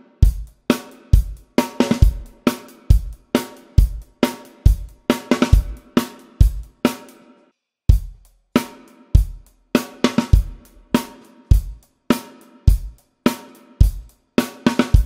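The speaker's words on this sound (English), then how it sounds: "Now there's also the snare drum fill" Drum kit playing a main beat with the snare fill, sharp repeated snare and kick hits in a steady driving rhythm, close and loud, with a short break midway before the pattern resumes.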